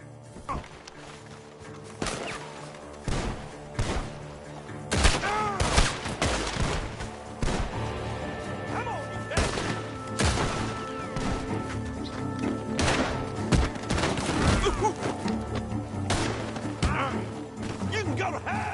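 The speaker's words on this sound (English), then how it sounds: "The gunshots are coming from that barn." Gunfire echoes from a barn in Red Dead Redemption 2, with repeated sharp shots and bursts coming in clusters throughout, some near and loud, mixed with crashes and thuds.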